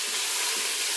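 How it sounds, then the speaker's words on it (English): Chopped onions with cumin seeds and hing sizzling in oil while being stirred, a brief, even, close hiss with no voices. "And then all of your onions. Give all that a quick stir."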